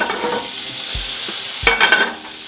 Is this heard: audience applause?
no